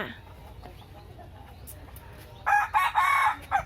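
A free-roaming backyard rooster of a Burmese breed crows from a short distance in a few loud bursts near the end, after a stretch of quiet background with faint clucking.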